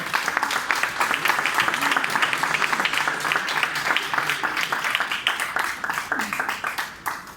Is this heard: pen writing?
no